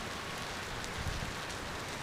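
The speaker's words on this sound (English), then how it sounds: "And it's pouring rain." Heavy summer rain pours down steadily in a continuous, dense hiss on the surfaces nearby, with no voices.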